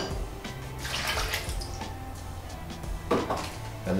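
Water poured into a blender jar for a tropical heat smoothie with pepper and double cream yogurt, a steady splashing pour with brief clinks near the end, close and alone.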